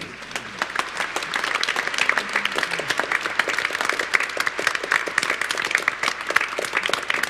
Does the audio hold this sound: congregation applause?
yes